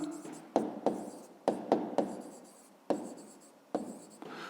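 A pen scratches out a maths answer by hand in short, separate strokes, each one sharp at the start and then fading, close and quiet, repeating irregularly.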